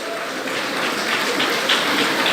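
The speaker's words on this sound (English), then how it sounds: "Please give the Monroe staff a round of applause" A graduation ceremony crowd applauds steadily, a dense wash of clapping that holds at an even level for a couple of seconds.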